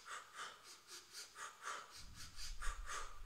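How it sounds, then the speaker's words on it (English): A person exercising takes rhythmic, quick breaths in short bursts, about a dozen puffs close to the listener, followed by a low rumbling noise underneath. "If you take in three small breaths and about two small breaths instead of three to three"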